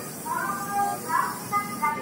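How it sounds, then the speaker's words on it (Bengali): The Coromandel Express pulls out of platform 4 at Bhubaneswar station, with a low rolling rumble beneath a steady hiss and faint intermittent squealing tones of wheels on the rails. "যে ভুবনেশ্বর স্টেশন ছেড়ে আমাদের ট্রেন বেরিয়ে যাচ্ছে।"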